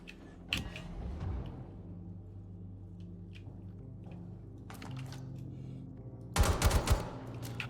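Bursts of gunfire in the space game Star Citizen: a sharp shot near the start, a few faint cracks through the middle, then a loud rapid cluster of heavy shots near the end over a steady low ship hum.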